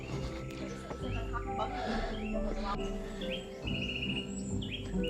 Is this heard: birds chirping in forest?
yes